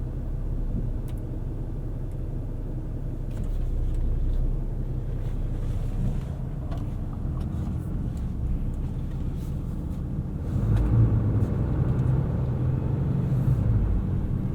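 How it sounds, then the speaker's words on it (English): A low, steady diesel engine rumble from a 2021 Ram 3500 Dually turbo diesel pickup truck runs throughout, close and continuous, rising slightly in places, with no talking. "I love how this truck sounds."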